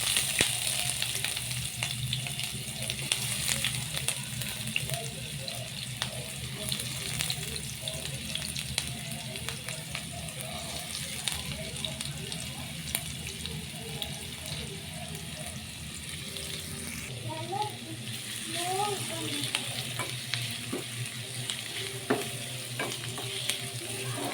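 Onion frying in a frying pan, a steady broadband sizzle with occasional stirring scrapes running throughout, moderately loud and close, with a brief shift in texture near the end.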